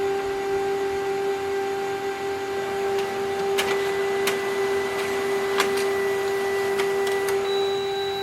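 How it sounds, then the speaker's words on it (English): A Canon imageCLASS LBP633Cdw color laser printer wakes and prints, with a steady mechanical whine and hum broken by sharp clicks and ticks from its paper-feed mechanism, loud and close with no talking. "Automatically your printer will wake up and it will start printing."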